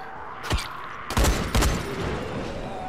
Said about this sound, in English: Get into a bit of a gunfight with these lot.